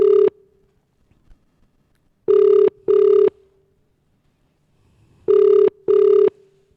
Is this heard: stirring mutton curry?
no